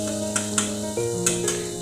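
Onions frying in oil over low heat for an egg curry, giving a steady soft sizzle with a few stirring scrapes and clicks, close and continuous with no talk.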